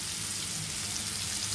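Potato pieces frying in a pan with turmeric, chili powder and a little salt, a steady close sizzle with crackling throughout and no talk.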